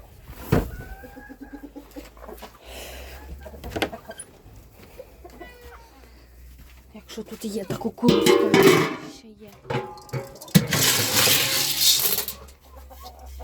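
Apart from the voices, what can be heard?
chickens clucking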